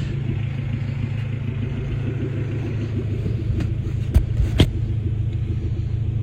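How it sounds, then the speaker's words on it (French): A Renault 16 engine, restarted after twenty years of storage, idles steadily with an even low throb and light mechanical clatter, close by, broken by a couple of sharp knocks near the end. "Le ralenti est hyper stable."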